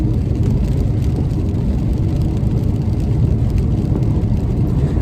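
A BMW 2 Series Gran Coupe M Sport driving across the Humber Bridge in pouring rain, with steady road roar, tyre hiss on wet tarmac and heavy rain noise all around inside the cabin, no talking.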